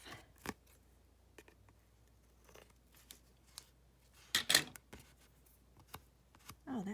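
Scissors snip decorative paper for a page-decorating craft, giving a few faint, sparse clips with longer gaps and a louder cluster of sharp cuts near the middle, all close up in a quiet room.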